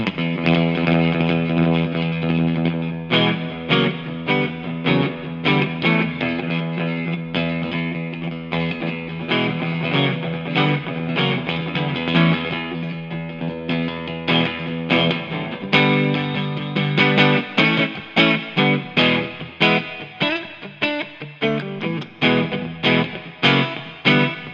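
A Fender Jaguar electric guitar is strummed hard with the reverb turned up, rhythmic chords ringing with a splashy, wet tail, loud and alone, for about twenty-five seconds.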